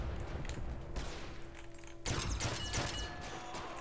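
Gunfire in the SA-MP Call of Duty mod, a multiplayer game: quiet, rapid bursts of shots with rumbling impacts, becoming louder and denser halfway through, with no voices.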